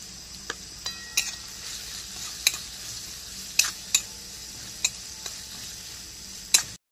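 Chopped garlic and ginger fry lightly in a pan, a gentle continuous sizzle broken by a handful of sharp spoon taps and clinks against the pan, close and without speech.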